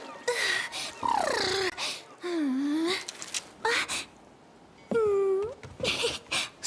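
A cat meows repeatedly in the Honor of Kings video game, rising and falling whiny cries with breathy gasps between them, close and fairly loud, and there is no talk.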